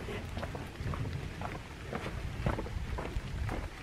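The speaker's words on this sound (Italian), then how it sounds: "intanto qua piove" Rain falls on a quiet, shuttered village street in Triora, a soft patter with scattered close drips and light taps over a low background wash.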